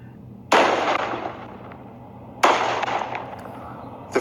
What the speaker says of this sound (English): Eventually, I decided to just shoot off the big missiles anyway.